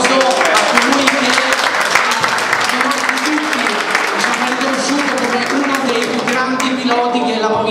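Sustained audience applause at a sports club's season awards ceremony in Lecce, a dense, steady wash of clapping that fills the whole stretch at close range, with some voices mixed in.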